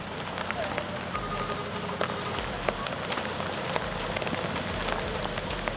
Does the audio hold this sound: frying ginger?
no